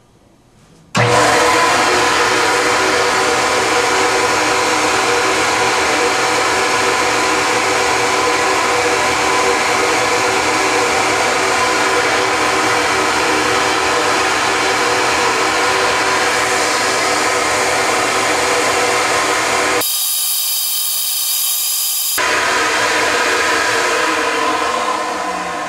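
An NRE flow bench drawing air through an X-Ram intake manifold for an LS engine, a loud, steady roaring whoosh that starts abruptly and holds for over twenty seconds, with a brief break near the end.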